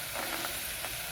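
Potatoes, cauliflower, capsicum, beans and green peas sizzle in hot oil in a pan for vegetable biryani, a steady close frying hiss with faint stirring scrapes.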